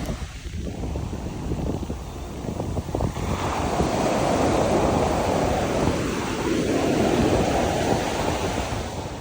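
Ocean waves breaking and washing up on Uvero Alto beach in Punta Cana, Dominican Republic, a loud continuous surf roar swelling midway, with heavy wind buffeting the microphone and no talking.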